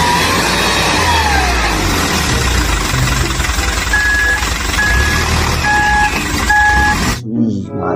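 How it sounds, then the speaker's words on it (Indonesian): Reversing beeps from a toy claw crane truck, a steady series of electronic tones repeating in a regular rhythm over continuous loud motor and engine-like noise, cutting off abruptly near the end. "Selanjutnya ada mobil capit guys."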